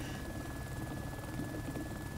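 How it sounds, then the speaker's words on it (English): Steady, continuous rotor-like drone of a helicopter, a constant low thrumming with a faint high whine, unbroken throughout. "I'm trying to fly a helicopter."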